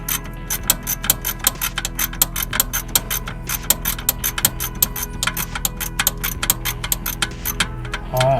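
A ratchet tightens the bottom brake bolt on a 2021 Honda Pioneer 520, rapid, steady clicking close up for around eight seconds with a constant mechanical hum underneath.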